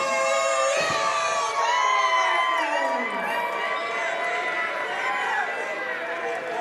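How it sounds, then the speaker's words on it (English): At a wrestling event, a large indoor crowd cheers and shouts continuously for a wrestler's entrance. Dense, whooping voices hold at a steady level throughout. "Nice crowd response for Tiffany today."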